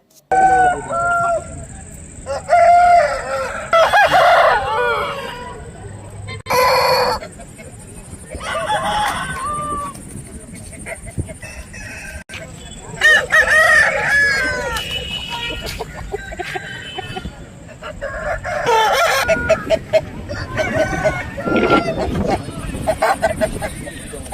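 Fighting roosters, including parrot-beak, long-leg and peacock-tail breeds, crow repeatedly at a poultry market near Krishnagiri, with loud calls rising over honking and voices talking among the crowd.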